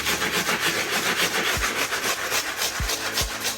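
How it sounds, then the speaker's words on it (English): A stiff texture brush scrubs the soles of Travis Scott Air Jordan 1 "Velvet Brown" sneakers, giving close, rough, rhythmic bristle strokes back and forth, with a few dull knocks. "Then I'll take my stiff texture brush and I'll begin scrubbing the soles."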